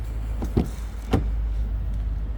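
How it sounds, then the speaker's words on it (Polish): The soft-close door of a 2022 Porsche Cayenne E-Hybrid draws itself shut, a short motorized whir followed by a couple of muted thuds as the latch pulls closed, close by in a quiet interior. "Drzwi z systemem automatycznego dociągania."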